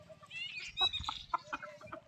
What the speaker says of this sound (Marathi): हे आपलं प्युअर गावठी कोंबड्या आहेत